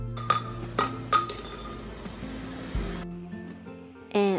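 An epoxy-coated tumbler falls from 4 feet and hits a hard surface, giving three sharp metallic clanks in quick succession, then a heavier thud followed by fading rattles. A brief voice is heard at the end.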